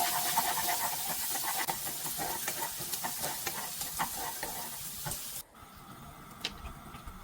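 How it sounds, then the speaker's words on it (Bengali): Sliced almonds and cashews frying in ghee give off a steady close sizzle, broken by light stirring clicks and scrapes, until the sound drops sharply near the end and only faint ticks remain. "বাদামগুলো ভেজে নিচ্ছি"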